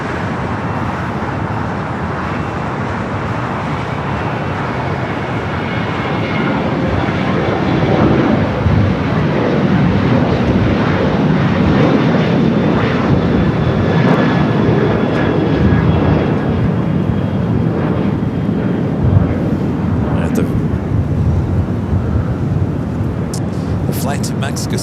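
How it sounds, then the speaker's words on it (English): An airliner takes off from runway 25 right at LAX, a loud, steady jet roar that swells and holds for the whole stretch, with faint traffic noise and radio-style voices underneath. "runway 25 right at Foxtrot, clear for takeoff"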